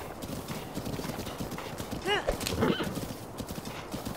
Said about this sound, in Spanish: Bonitos caballos, pero ninguno como mi yegua.